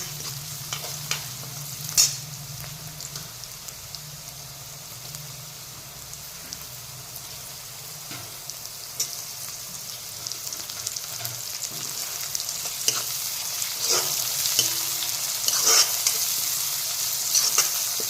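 Curry leaves and a large tomato sizzle with onion in a pan for masoor dal, a constant crackling fry broken by occasional clinks and scrapes of stirring, close and fairly loud.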